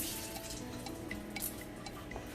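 Cilantro bunch rinsed under a running kitchen tap, a steady close trickle and patter of water with small drips, alone with no talk.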